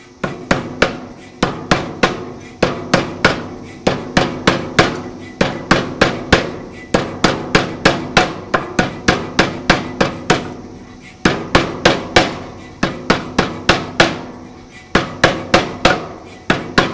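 A power hammer forging hot steel on an Anyang 88, the dies coming down toward a mild steel kiss block, pounds out loud, close, steady metallic blows in quick bursts with brief pauses between runs.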